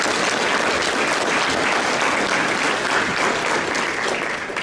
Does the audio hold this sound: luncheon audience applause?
yes